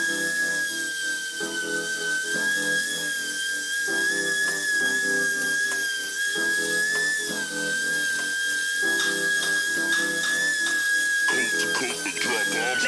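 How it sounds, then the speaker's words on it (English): A power sander works across an epoxy resin and wood coffee table made with Stone Coat Countertops epoxy, giving a steady, loud, high-pitched whine that holds without a break from start to finish. "we're gonna get our sander and we're gonna get to sanding"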